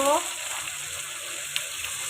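Chopped tomato goes into golden fried onions for mutton rezala, giving a brief louder splash at first that settles into a steady close sizzle, with a small clink or pop partway through.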